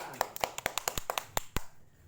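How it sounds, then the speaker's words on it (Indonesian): A dozen or so sharp hand claps at an uneven, brisk pace during an Indonesian community training session, close and clear, ending in a short quiet tail. "Tepuk tangan"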